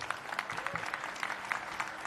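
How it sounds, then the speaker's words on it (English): Dense applause from an audience at a startup pitch competition grand finale, steady and close, with a thick crackle of many hands clapping throughout the short stretch. "Round of applause."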